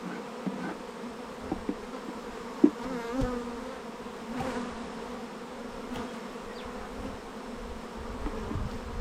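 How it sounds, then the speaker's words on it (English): Wasps buzz steadily and close around a beehive box being cleaned of messy comb, a dense insect drone with a few louder passes and faint knocks throughout. "Man, these wasps were everywhere."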